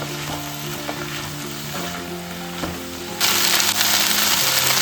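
Green chillies fry in a pan with tamarind, crackling and popping over a steady sizzle that suddenly grows louder and brighter partway through.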